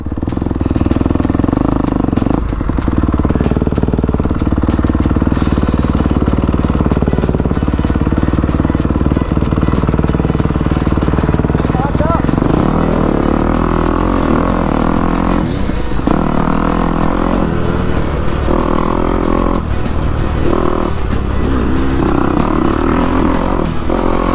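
Motorcycles trail riding on off-road dirt trails at Durhamtown, a loud, steady engine drone with rises and falls in revving and occasional clattering over rough ground, close and continuous throughout.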